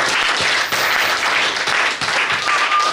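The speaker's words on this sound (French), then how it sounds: "Les chrétiens acclament un peu pour Jésus" A church congregation of Christians claps in sustained, even applause for Jesus, a dense crowd of hands filling the room without a break.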